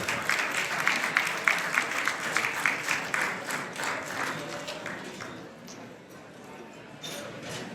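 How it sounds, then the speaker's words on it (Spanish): An audience at a conference on European designations of origin applauds with steady, moderately loud clapping that thins out and fades after about five seconds, followed by a quieter room. "Un aplauso, por favor."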